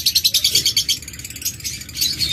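An opaline cockatiel or lovebird, kept for sale, chirps steadily and close by in a fast run of high, bright tweets, loud over a low background hum.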